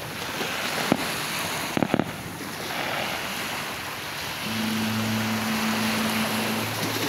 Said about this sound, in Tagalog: Nasa bangka nagpaputok.